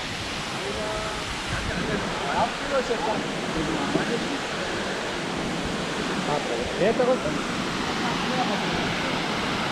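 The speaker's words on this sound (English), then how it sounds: "there is the optimum place to see this waterfall." A waterfall in Luang Prabang, Laos roars in a constant, dense rush of water, with faint voices now and then under the noise.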